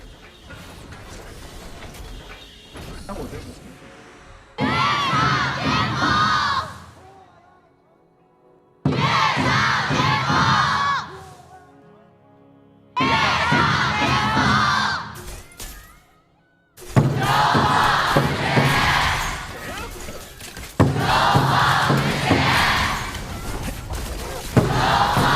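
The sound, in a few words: esports arena crowd cheering at KPL Grand Finals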